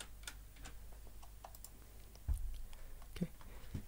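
Light clicks and keystrokes on a computer keyboard while a number is entered into a Scratch coding project, soft and close, with a couple of slightly firmer taps and faint background hiss.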